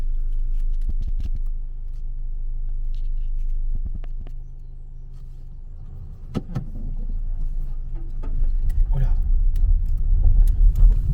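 A car rolls slowly along a rough surface with a low engine hum, crunching and scraping under the wheels growing louder toward the end as it is parked, with people talking over it.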